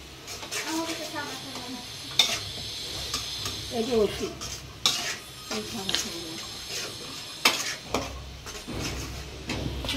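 A spice masala is stirred and sautéed in a pot for a taro and hilsa fish curry, with repeated scraping and clinking of a utensil against the pot over a soft sizzle and faint background sounds.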